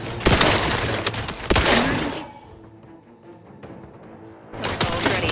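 Heavy gunfire from hostile weapons in The Outer Worlds 2 on very hard difficulty, with dense bursts of shots and impacts at the start, a quieter lull in the middle, then another loud burst near the end.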